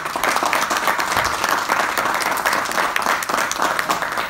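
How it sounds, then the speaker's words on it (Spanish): Loud, sustained applause from a business-presentation audience, dense steady clapping filling the whole stretch without pause. "Denle un fuerte, pero un fuerte aplauso"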